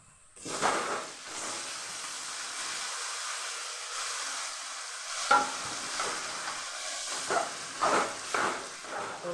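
Brinjal pieces tossed into hot masala sizzle and hiss steadily in the pan, with stirring strokes scraping and splashing in bursts over the continuous frying.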